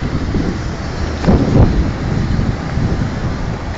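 Wind blowing steadily outdoors in Dubai, a constant broadband rush with a couple of stronger gusts buffeting the microphone near the middle, no voices.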